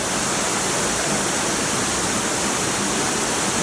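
Kima Atas waterfall near Manado roars as a constant broadband wash of falling water, loud and unbroken throughout with no voices.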